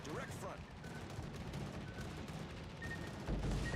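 In the World of Warships Legends video game, naval guns fire a salvo of high-explosive shells, heard as muffled, low booming rumbles under a continuous layer of game noise.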